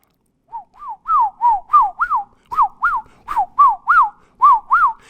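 A person whistles an imitation of a tundra swan call: a series of about a dozen short rising-and-falling whistled notes in a steady rhythm, clear and close with no background.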